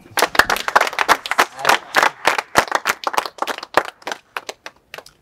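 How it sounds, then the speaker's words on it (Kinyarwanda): A studio audience at a Rwandan radio-style show claps in a quick, uneven burst of applause, loud and close, gradually thinning and fading toward the end. "Umunyamakuru ntago mwamwongera amashyi."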